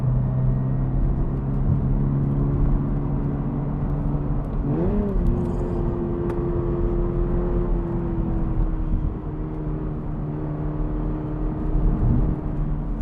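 A Toyota GR86 engine hums steadily from inside the cabin with road rumble, the pitch shifting briefly as it accelerates, with no talking.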